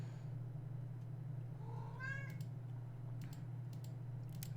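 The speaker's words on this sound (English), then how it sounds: "My cat is annoying." A pet cat lets out a single clear, rising meow over a constant low electrical hum, followed by a few faint clicks like keyboard taps.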